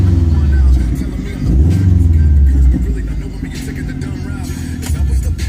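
A 2009 Subaru WRX engine idles with a deep, loud rumble and is revved twice, the pitch rising and falling, while someone talks close by over the engine noise.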